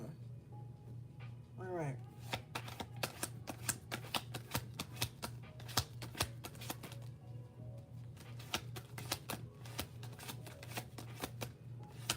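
Tarot cards being shuffled by hand, a long run of quick crisp riffling flutters and taps close by, with a faint steady hum underneath.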